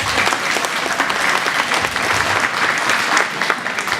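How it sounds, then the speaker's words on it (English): Loud, sustained applause from a crowd at a livestock show, dense clapping steady throughout with no pauses. "Give her a round of applause."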